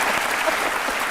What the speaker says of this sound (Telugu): ఈ ప్రశ్న నేను చప్పట్లు కొడుతున్నాను